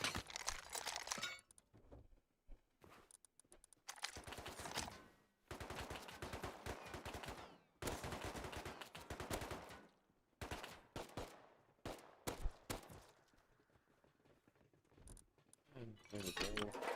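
Bursts of gunfire in the survival video game Rust, rapid cracking volleys broken by short silences across the whole stretch, loud and close with no talk over them.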